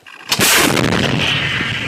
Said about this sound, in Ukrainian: Аби точно рознести цю позицію під нуль, артилеристи б'ють ще раз.